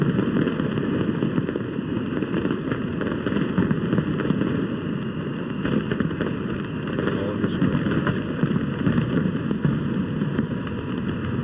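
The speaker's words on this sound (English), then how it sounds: "Simultaneous fireworks shot from 16 different barges on the river." Fireworks launched simultaneously from sixteen barges on a river during a New Year's Eve 1999 celebration, heard as a steady, dense roar of distant bursts and crackle with wind-like noise throughout.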